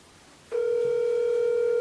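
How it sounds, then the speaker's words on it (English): A phone call is placed and a steady tone suddenly starts and holds, loud and continuous, after a short quiet moment, with no voices. "I'm gonna call Barris on the phone and see what he thinks about his matchup."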